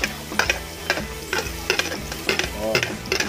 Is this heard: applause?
no